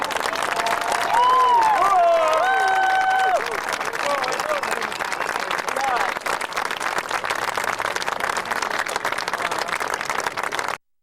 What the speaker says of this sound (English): please join us in a warm round of applause for the officers and drill instructors of Company I.